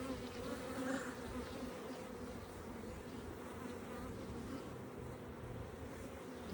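Honeybees buzz around an open hive during an inspection, a dense, steady, faint hum of many insects close by, with no talking.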